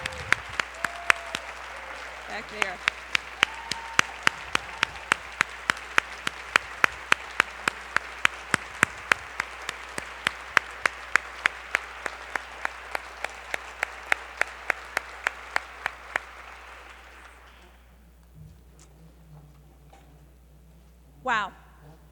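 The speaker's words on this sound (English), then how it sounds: "deserves a real round of applause" A large audience claps steadily for a long stretch before the applause fades out, with a brief voice near the end.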